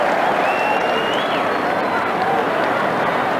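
A large stadium crowd of over 41,000 roars steadily at a night Australian football match between Adelaide and St Kilda, a dense, continuous wash of cheering and clapping with a commentator's voice over it.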